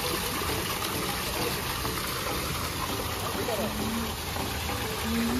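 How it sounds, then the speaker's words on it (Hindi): Outdoor water fountain built in the shape of a well at a dhaba-style venue, heard at night as a steady, continuous rushing splash, with a faint low engine-like hum and distant voices mixed underneath. "सुंदर से तो फाउंटेन मस्त पानी का आवाज आ रहा है"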